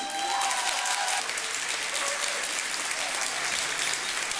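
An audience at a teen beauty pageant applauds a best national costume award, a sustained bright wash of many hands clapping at steady volume throughout.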